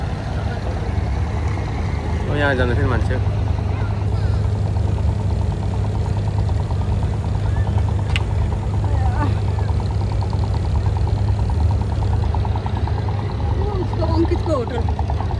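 Tourist boat engine running at night on the water in Dubai, a steady low drone throughout the whole stretch, with people talking over it.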